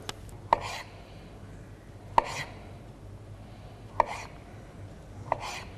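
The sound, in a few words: peeling and cutting beetroot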